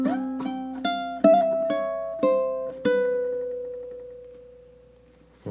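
A ukulele plucks a short spooky melody, the second ending, as single ringing notes, a few quick then spaced, closing on a long sustained tone that fades out, alone and near.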